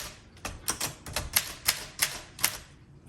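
Keys strike on a 1935 Underwood Universal manual typewriter, about eight sharp, irregularly spaced mechanical clacks close to the microphone, with no talking.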